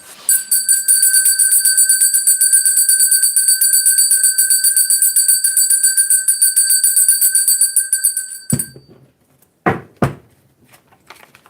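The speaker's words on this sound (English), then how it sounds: "I'm going to ring that bell too because somebody's energy is quite dark right now." A bell rings steadily with a bright, sustained metallic tone and rapid repeated strikes for about eight seconds, loud and close, then stops abruptly, followed by a few soft knocks and handling sounds.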